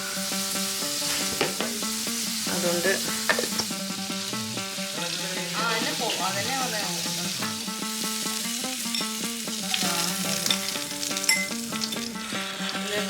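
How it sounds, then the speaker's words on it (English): Steady, dense sizzling of prawns shallow frying in a hot pan, continuous and fairly loud throughout, with occasional crackles and pops. "After shallow frying the prawns"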